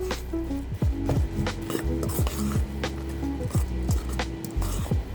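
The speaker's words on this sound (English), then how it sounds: "Mix everything up." Barley soup with lamb shank being stirred right after half a lemon's juice goes in, a spoon scraping and clinking against the pot in repeated strokes over a low sizzle, close and steady with no talking.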